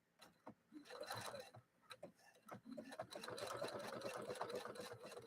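Husqvarna Viking sewing machine stitching a pictogram pattern whirs in short starts at first, then runs steadily with a rapid ticking rhythm. A voice talks faintly beneath it.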